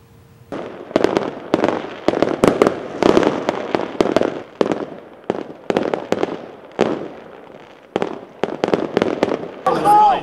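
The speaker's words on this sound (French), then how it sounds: "milliers de Palestiniens sont descendus dans les rues avec des drapeaux, ont fait éclater des feux d'artifice et ont dansé." Fireworks burst repeatedly at a nighttime street celebration in Palestine, with flags and dancing crowds; loud, irregular cracks and pops come in rapid clusters over crowd noise and scattered voices throughout.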